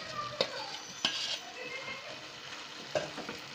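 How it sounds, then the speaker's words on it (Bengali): Bangladeshi halim being stirred in a pot over the heat, with a faint sizzle running beneath a few sharp spoon scrapes and clinks against the metal. "দেখেন আমরা এটাকে সুন্দর করে এখন মিক্সচার করতেছি।"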